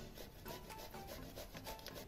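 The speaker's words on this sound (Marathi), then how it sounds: "हे बटाटे आपण आता किसून घेऊया।" Peeled boiled potatoes rubbed against a grater, a quiet close rasping in a steady back-and-forth rhythm of repeated strokes, with no talking.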